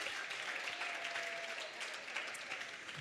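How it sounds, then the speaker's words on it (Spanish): Audience in a church service applauding, continuous even clapping from a sizable crowd filling the whole moment without speech. "Un aplauso para él."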